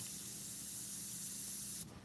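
An Iwata CM-SB airbrush spraying Createx paint onto an American eagle artwork, a steady close hiss that holds evenly for about two seconds before cutting off.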